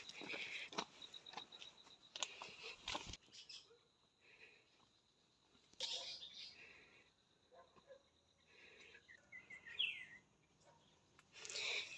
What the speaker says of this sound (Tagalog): Naririnig mo yung ibon?